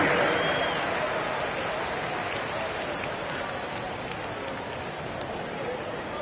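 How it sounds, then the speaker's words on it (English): Arena crowd applauding a dance team at a basketball game, a loud sustained wash of clapping and cheering that fades slightly, with indistinct voices mixed in. "Please give a big round of applause for the S24 Junior"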